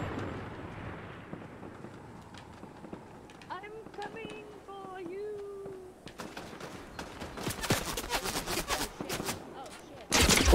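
Gunfire in a Fortnite Zero Build duos match, bursts of sharp shots crackling in the second half and growing louder toward the end, mixed with other game sounds and players talking.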